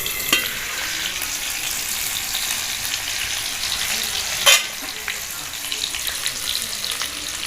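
Green chilies sizzle in hot oil for bhajiya kadhi, a steady close frying hiss with a brief clatter midway.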